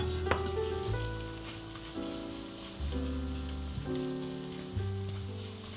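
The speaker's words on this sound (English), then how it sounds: "Roast the onions." Onions roast in a tablespoon of butter, a soft, steady crackling sizzle that runs faintly beneath a background tune with no talking.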